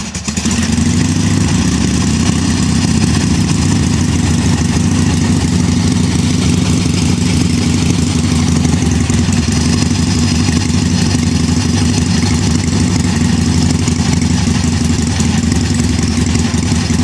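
A 1966 Harley-Davidson Sportster motorcycle engine starts and settles into a loud, close, steady idle, its low rumbling throb running continuously with no talking over it.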